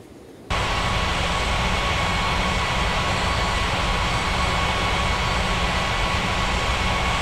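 An airliner jet lands in the Springbrook International air traffic control game, a loud, steady engine roar that starts abruptly after a brief quiet moment and holds constant to the end.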